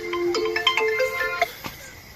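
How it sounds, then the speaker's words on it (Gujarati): Mobile phone ringtone from an incoming call at night, a bright melodic run of quick chiming notes playing on its own at moderate volume. "રાતના ફોન આવ્યો હે."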